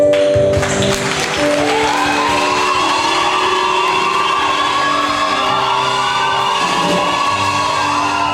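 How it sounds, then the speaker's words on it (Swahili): A church congregation at a youth rally claps and cheers for the Lord, a loud continuous wash of applause mixed with whoops, shouts and sustained musical tones. "wacha tupigie Bwana makofi"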